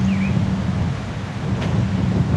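Wind blows steadily across an outdoor clifftop spot in the UK, a constant low rumble against the microphone, fairly loud and unbroken, with a brief high chirp near the start.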